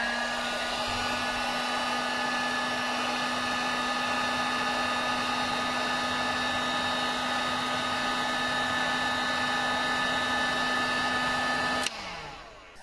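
Heat gun blowing hot air onto a Jeep 3.2L fuel injector in a bench test, a steady, loud whooshing blower hum with a fixed tone that runs for about twelve seconds, then switches off and winds down.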